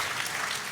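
Audience applause at a live music performance: a dense, even wash of many hands clapping that fills the whole short moment without a break.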